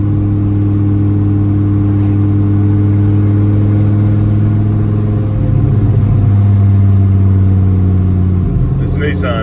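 A 1993 Dodge Viper RT/10 drives with a steady low engine drone and strong harmonics, its pitch and level rising in a rev around the middle, then settling, with wind noise throughout.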